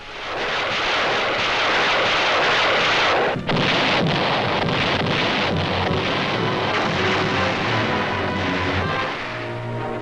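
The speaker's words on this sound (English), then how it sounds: "First, the bombardment." WW2 newsreel footage of the naval bombardment of Okinawa: a loud, continuous roar of heavy gunfire and explosions that barely dips once before rumbling on.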